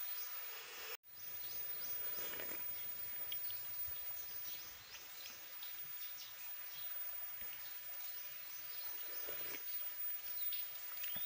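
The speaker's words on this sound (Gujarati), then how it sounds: "વરસાદ ચાલુ છે" Steady heavy rain pours down in a rural village setting during a downpour, a dense continuous hiss of drops on surfaces, loud and close, with one brief dropout near the start and no voices.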